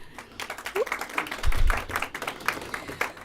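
Scattered audience clapping at a county commission meeting comes in uneven bursts, fairly close, with a few thumps and a voice briefly under it.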